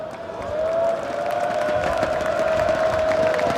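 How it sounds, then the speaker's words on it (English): Esports arena crowd at a Counter-Strike major quarter-final roaring and cheering, a loud, sustained wash of voices with a steady shout rising over it. "Vitality crowd has been amazing. This section has just been so loud throughout."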